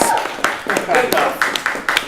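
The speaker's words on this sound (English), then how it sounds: "a big round of applause for Dylan Jones, ladies and gentlemen" Comedy club audience applauding a stand-up comedian, a short burst of sparse, separate claps near the microphone, with a voice talking over them.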